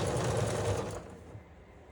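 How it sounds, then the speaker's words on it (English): A sewing machine stitches quilt block pieces, running as a steady close whir for about a second before dropping to a quieter hum. "I'm going to take them to the sewing machine"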